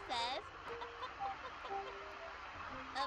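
Chicken clucking in the Amanda the Adventurer video game, a short burst of clucks at the start and another brief cluck near the end, with a spoken voice in between.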